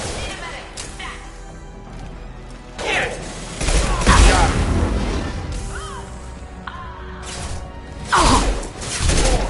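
Heavy gunfire erupts in a video game firefight: loud, crashing bursts and impacts rise and fall in clusters over constant background clatter, with voices talking throughout.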